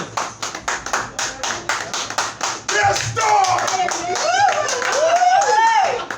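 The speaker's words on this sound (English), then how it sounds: "Thank you for those applause" Audience applause follows a poetry reading at an open mic comedy night, with a few people clapping in a quick uneven rhythm close by for about two and a half seconds, then people shouting and talking loudly over a few fading claps.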